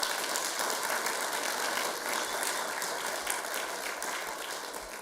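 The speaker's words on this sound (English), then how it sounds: "One more applause for Mr. Guernsey, please." Steady, dense applause from a crowd at a small business forum fills the whole stretch, an even wash of clapping with no voices breaking through.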